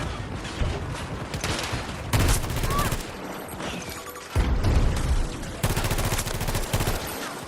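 Rapid bursts of video game gunfire from a weapon with an 850 fire rate, loud, dense automatic volleys that come in several sustained bursts with brief lulls between them.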